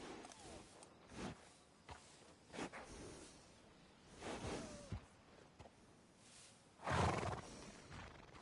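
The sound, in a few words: horse neighing in Red Dead Redemption 2 video game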